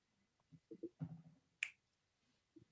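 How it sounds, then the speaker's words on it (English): A single finger snap rings out sharply after a guided meditation session, preceded by a few soft low thumps and followed by a faint tap, all in an otherwise quiet room. "snap your fingers."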